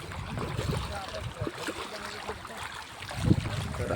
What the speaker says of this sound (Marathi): तुम्ही काय ह्या पाण्याचा आवाज आहे का